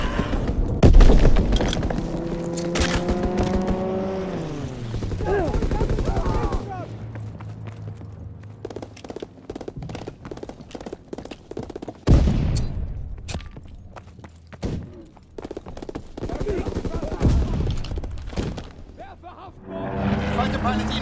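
Aircraft strafing runs with rapid gunfire and explosions in a Call of Duty: WWII team deathmatch on Sainte Marie du Mont, loud bursts and booms over engine drone, with spoken game announcements mixed in.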